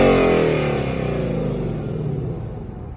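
A 2018–2023 Ford Mustang GT with an active valve performance exhaust in quiet mode, heard from outside: a deep engine rev fades into a smooth, settling rumble that tapers off over about three seconds.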